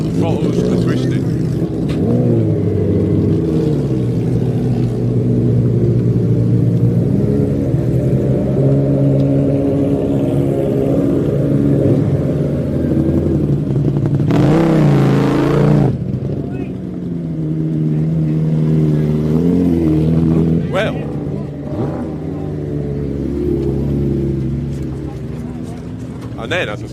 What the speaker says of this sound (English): Engine on, tyres rolling, throttles are twisting.